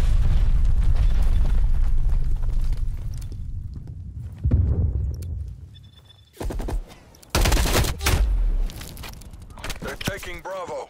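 Artillery and napalm strikes in Black Ops Cold War multiplayer, a sustained roar of explosions and gunfire that thins out, then returns as several loud, abrupt blasts, with game voice callouts in between.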